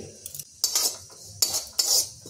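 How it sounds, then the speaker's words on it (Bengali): Metal utensil scrapes and stirs whole spices dry roasting in a wok in several short bursts, crisp and close, with quiet pauses between strokes and no talking. "কড়াইয়ে একটা মশলা ড্রাই রোস্ট করে নেব"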